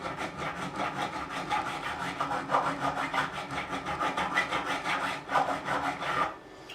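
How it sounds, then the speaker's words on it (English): A crowning file reshapes the frets on a Jackson DK2M Dinky guitar, making a close, steady run of rhythmic rasping strokes back and forth that stop abruptly near the end, with no talk. "Put that crown back in using the crowning file there."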